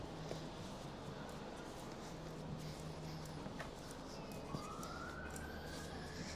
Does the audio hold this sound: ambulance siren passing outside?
yes